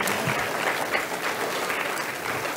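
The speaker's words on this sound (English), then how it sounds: "Let's give our speaker a round of applause." A church congregation applauds a speaker after a sermon on prayer and faith, a full, even burst of many hands clapping at close range, with no talk over it.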